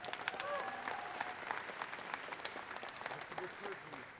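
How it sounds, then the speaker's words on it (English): Crowd applause in the ring at a state fair livestock auction, steady clapping throughout the short stretch, with people talking and calling out over it. "let's give them all another round of applause"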